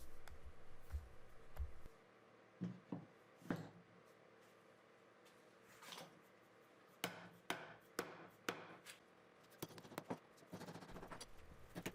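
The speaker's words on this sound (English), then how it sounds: "as soon as you drive in these pegs, it pulls everything very, very tight" Hammer blows driving wooden pegs into a Roubo workbench base, scattered single strikes and short clustered taps at close range, sharp and woody, with quieter pauses between.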